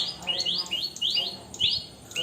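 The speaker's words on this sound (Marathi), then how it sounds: "वा, चिमणे आले, चिमणे आवाज करतात आहे." Sparrows in a Konkan village chirp in quick, bright repeated calls, fairly close and overlapping, with no talking over them.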